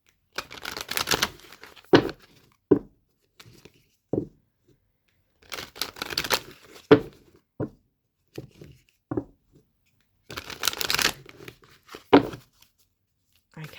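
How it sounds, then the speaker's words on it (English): A Moonology oracle card deck is shuffled by hand in several separate bursts of quick riffling and slapping card noise, each lasting about a second, with short pauses and light taps between them. "I'm going to get the Moonology on, and I will shuffle"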